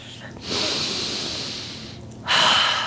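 Slow, deep breaths during a gentle yoga class, a long airy exhale followed by a sharper, louder intake, close and quiet with no talking.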